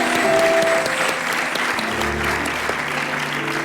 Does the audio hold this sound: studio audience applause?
yes